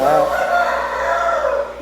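A rooster on a poultry farm crows once in a long, drawn-out call, close and fairly loud, tailing off at the end.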